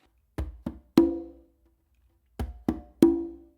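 Conga strokes in a melodic funk groove, a bass, a finger tone, then a ringing open tone from the dominant hand, played twice with a pause between, close and dry with no voices.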